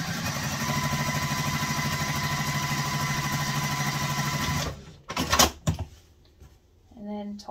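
A sewing machine top stitching a handmade socialite-style wallet runs steadily and close for about four and a half seconds, then stops. Brief handling clatter and a short voice follow.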